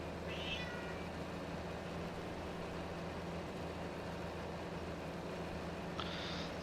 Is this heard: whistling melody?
no